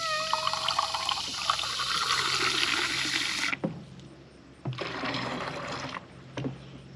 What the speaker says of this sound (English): pour it into my spray container